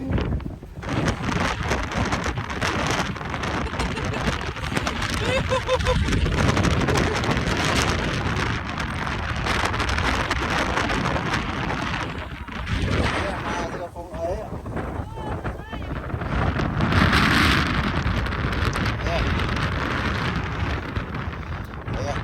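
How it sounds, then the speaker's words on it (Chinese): A strong gale batters a ladder on the way up to a cliff village in Daliangshan, making a loud, constant roar of wind buffeting close to the mic, with voices faintly audible now and then. "8级大风来了，梯子都吹得晃了"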